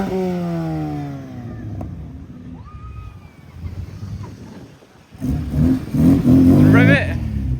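A car engine revs at an Essex retro car meet, the roar swelling loud and close in the final seconds after quieter crowd chatter and voices in the open air.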